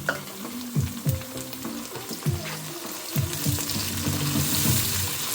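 Chopped tomatoes drop into a hot pan and sizzle steadily for several seconds, with a few stirring scrapes and bursts of frying close by, no voices.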